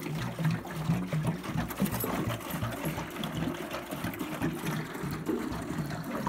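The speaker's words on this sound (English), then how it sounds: "I can already start the pumps." Pumps in a hydronic cooling system start circulating water, giving a steady mechanical hum with gurgling, trickling flow running at even loudness throughout, no voices.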